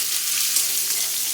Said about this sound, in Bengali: উচ্ছেগুলো লাল লাল করে ভাজা হবে